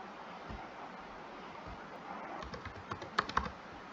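Java code typed on a computer keyboard, quiet irregular key clicks that grow busier and sharper toward the end, with a few distinct louder taps near the close.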